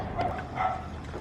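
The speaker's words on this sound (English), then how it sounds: "That dog barking still." A dog barks a few times at a distance, faint against a steady background hum, with two soft yips close together near the start.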